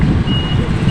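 A truck backing off a ship sounds a steady, loud reversing beep over a heavy, close engine rumble.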